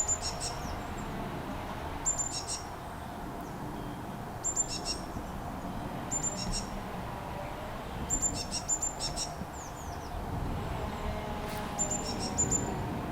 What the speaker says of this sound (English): there was a blue tit making a call that hadn't got recorded yet